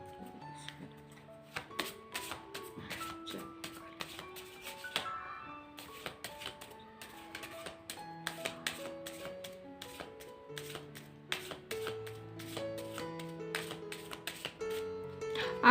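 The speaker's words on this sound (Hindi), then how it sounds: "शफलिंग कार्ड्स की शफलिंग नहीं पसंद है, आप स्किप कर सकते हैं।" Tarot cards being shuffled by hand during a reading, a steady run of crisp riffling and tapping that stays close and moderately loud under soft chime-like music, with no talking.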